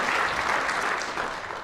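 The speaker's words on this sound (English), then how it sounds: "give Gary a applause." A civic audience at a city address applauds a local man being honored, a dense, steady burst of clapping from many hands filling the room, continuous and fairly close.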